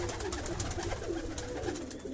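Female pigeons kept penned together coo steadily, their low rolling calls repeating close by in overlapping bursts, accompanied by sharper chirpy notes, with no talk heard.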